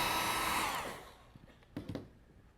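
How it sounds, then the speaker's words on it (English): A small secondhand hair dryer blows steadily to dry a wood carving, a loud continuous whoosh that cuts off after about a second, followed by a few faint handling clicks and bumps. "this little hair blower that I got for 50 cents at a rummage sale dries it real quick"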